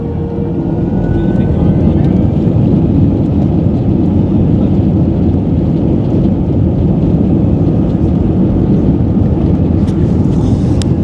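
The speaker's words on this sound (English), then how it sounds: "I love it how you feel the plane just being pushed, or yourself being pushed back in the seat as it accelerates down the runway." A steady, loud roar fills the cabin as an easyJet airliner accelerates down the runway on takeoff, a continuous broadband rush of engine and rolling noise heard from inside with no breaks.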